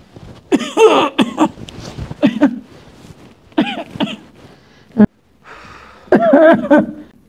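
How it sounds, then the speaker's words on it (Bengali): A man coughs while lying on the floor on a cold night, several harsh bursts in uneven clusters with pauses and breathing between them, close and loud. "ব্যাপার কি, এখানে শুয়ে শুয়ে কাশতেছে কি?"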